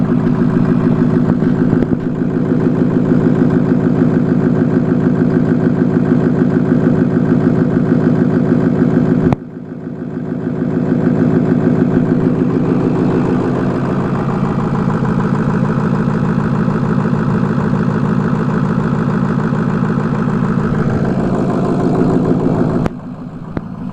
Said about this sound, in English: Okay, so that was a truck running it.